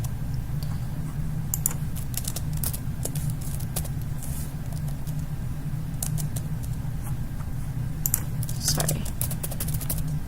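Typing on a computer keyboard, with scattered bursts of clicky keystrokes over a steady low background hum, moderately close and fairly faint.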